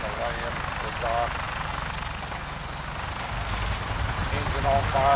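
An aircraft, likely a vertibird-style helicopter in the video game Fallout 4, drones and thrums steadily as it sets down at a dock, its rotor rumble continuous beneath a person talking.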